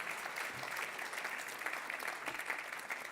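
Audience clapping at the Laval Virtual 2018 VR & AR awards ceremony, steady, fairly faint applause from a crowd in a hall, with a few sharper individual claps standing out.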